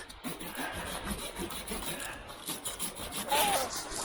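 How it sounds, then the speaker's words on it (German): A handsaw cuts through wood outdoors in steady, fairly fast back-and-forth strokes with a rough, raspy texture. The sawing runs continuously at moderate loudness under a noisy background. "Willst du echt so sägen? In der Position?"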